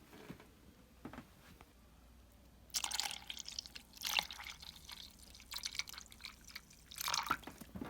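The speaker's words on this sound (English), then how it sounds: "And then I'm gonna top the rest off with a cran-pineapple." Cranberry-pineapple juice is poured into a glass over French vodka and pineapple, faint splashing streams and drips coming in a few short bursts against a quiet background.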